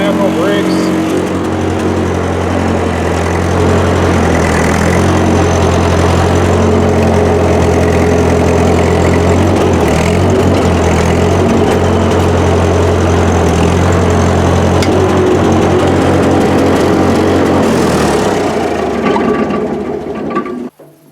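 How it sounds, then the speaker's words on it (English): An old tractor's engine runs loud and steady at close range in a rural setting, a continuous low rumble with a constant throb that cuts off at the very end, with people talking over it. "Paul's gonna motor this tractor so I can film."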